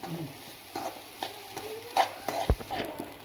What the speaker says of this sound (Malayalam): ബ്രൗൺ കളർ ആവുന്നത് വരെ നമ്മളിതിങ്ങനെ ഇളക്കിക്കൊണ്ടിരിക്കണം